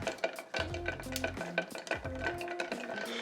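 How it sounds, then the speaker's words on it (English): Ice swirls and clinks against glass as a Vieux Carré cocktail is stirred, with quick, ringing rattles repeating over a few seconds, close up and without talk. "Give these a good mix."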